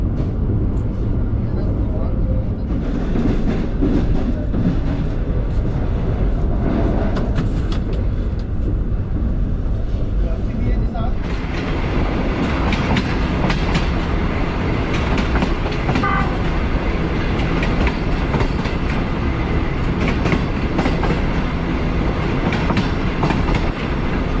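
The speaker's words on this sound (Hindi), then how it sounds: "ट्रेन हमारी थोड़ी देर में पास थ्रू होगी धाबे जी रेलवे स्टेशन से।" A Green Line Express passenger train rumbles past steadily and loudly, with continuous rail noise and clatter throughout, and some talking mixed in underneath.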